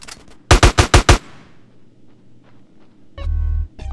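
Gunfire in GTA San Andreas: a quick burst of four or five loud shots, followed by quieter background rumble and a low engine-like drone near the end.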